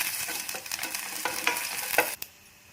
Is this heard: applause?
no